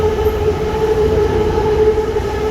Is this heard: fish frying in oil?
no